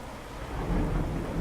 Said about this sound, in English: this is just a regular storm